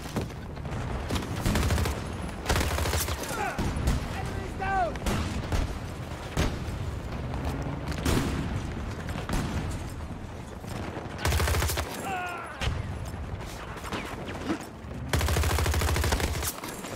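A turret fires during a Battlefield 2042 match, bursts of rapid gunfire recurring in loud clusters across the span, with quieter gameplay noise between them.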